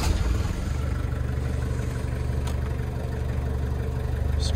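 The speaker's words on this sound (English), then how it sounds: "we're going to start the car, but this car is a diesel" A four-wheel-drive diesel car engine idles steadily, a loud, even low rumble with a regular throb and no talking over it.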